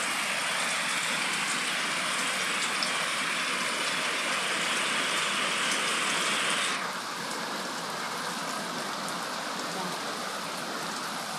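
Steady rain falls outdoors over a garden, a dense even hiss that continues throughout. Partway through it drops to a slightly softer, duller texture, and a faint voice briefly shows beneath it.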